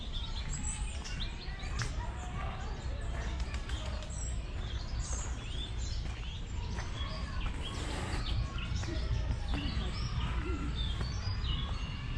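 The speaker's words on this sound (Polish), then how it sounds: "Ptaszki śpiewają." Birds chirp and sing steadily in the background of an outdoor scene in Spain in December, with a constant low ambient hum underneath.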